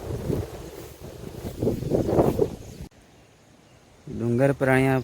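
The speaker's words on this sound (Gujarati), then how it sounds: "સ્પીડમાં પવન આવી રહ્યો છે." Strong wind rushes across a rain-soaked hilltop in monsoon season, a broad rumbling blast for a few seconds that drops away before a person begins speaking.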